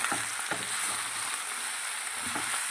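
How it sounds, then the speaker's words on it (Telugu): Chicken is mixed in a hot pot for pulao, with a constant close sizzle and hiss broken by a few soft knocks of the stirring spoon. "ఇప్పుడు మొత్తం చికెన్ పట్టే విధంగా కలిపేసుకోవాలి"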